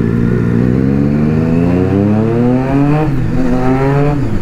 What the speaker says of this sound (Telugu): Tunnel రెవ్స్ bro, tunnel రెవ్స్.